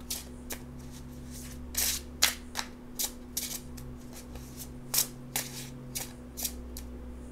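A Saturn tarot deck being shuffled by hand, with a series of brief, crisp riffling bursts at an uneven pace over a steady low background hum; no talking.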